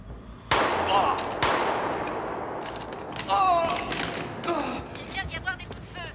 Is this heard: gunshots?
yes